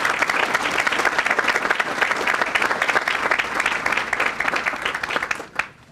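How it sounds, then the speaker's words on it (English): A Chamber of Commerce awards-ceremony audience gives a sustained, dense round of applause for Krista and her staff, steady and loud before cutting off abruptly near the end. "I'd like a round of applause for Krista and all her staff"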